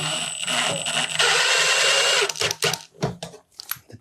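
A power drill drives a screw into wood during a school bus conversion, with a sustained whirring motor run followed by a string of short, choppy bursts as the screw seats.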